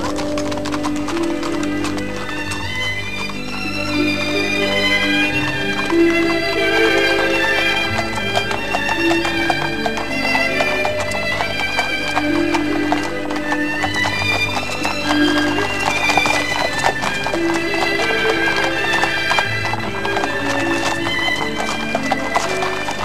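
Horse hooves gallop through woodland and over jumps, with steady rapid clip-clop beats and occasional whinnies, loud and continuous under a dense layer of music.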